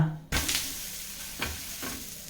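A crisp kodo millet dosa roasts on a hot pan, giving a soft continuous sizzle broken by three distinct scraping strokes, the first loud and the later two lighter.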